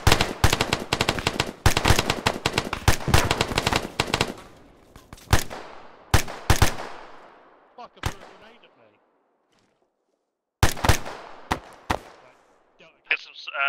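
Rapid rifle fire during military section training, with sharp, loud shots first in dense volleys, then in sparser single cracks and short bursts separated by pauses and fading echoes.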